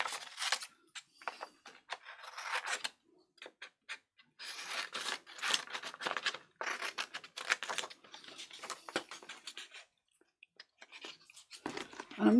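Scissors roughly cutting a paper journaling card for a wildflower folio journal, a quiet irregular series of close, crisp snips and paper rustles with brief pauses.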